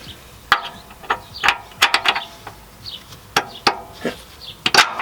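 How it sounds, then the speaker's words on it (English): Subframe bolt being fitted and tightened while installing RHD Performance subframe collars on a car: a series of sharp metallic clicks and taps at an uneven pace, some bursts of quick ratchet-like clicking, close and moderately loud with no talk. "then we're going to pop in the bolt again"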